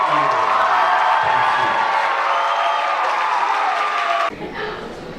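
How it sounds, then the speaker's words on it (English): Audience at a high school marching band awards night breaking into applause, steady dense clapping with a few cheers that holds for several seconds and then cuts off sharply into quieter room noise. "another round of applause for our second year"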